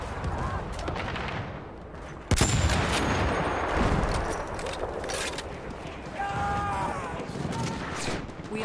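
Battlefield 1 online battle gunfire on Xbox One X: a dense, steady wash of distant shots and explosions with one sharp close crack, under faint radio-like chatter.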